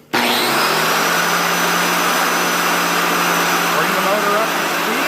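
A biscuit joiner's motor spins up to a loud, steady whine and holds it close by throughout, cutting a slot in a candle stand top being prepared for a biscuit-jointed glue-up.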